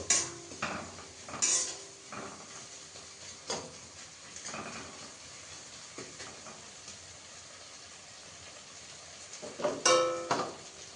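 Capsicum is stirred in a kadai with oil, making intermittent metallic clanks and scrapes of a utensil against the pan over a faint sizzle, with a louder cluster of knocks near the end.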